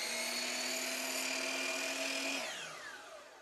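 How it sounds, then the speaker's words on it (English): Power saw cutting a 45-degree miter through XPS polystyrene cornice molding, a close, high-pitched whining buzz that holds steady and then winds down as the cut ends. "so I'll cut a 45-degree miter on one end"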